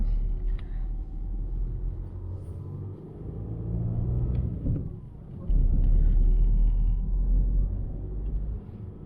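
A Skoda Octavia Scout engine rumbles low and steady, swelling as the car pulls away, with a deeper surge of engine noise partway through.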